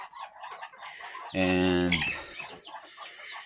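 Backyard chickens, including a rooster recovering from a fight, give a loud raised call of about a second amid quieter background clucking, with a voice briefly heard.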